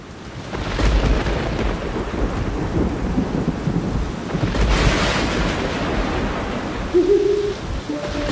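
Cartoon-style stormy night effect: rumbling thunder and steady rain throughout, with a louder rolling swell around the middle, fairly close and full, no voices.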